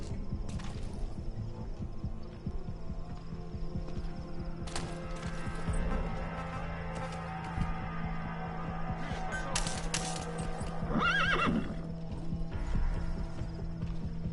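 A horse in the video game Metal Gear Solid V clip-clops along at a steady gait over game ambience, with a short neigh rising near the end and occasional mechanical clanks.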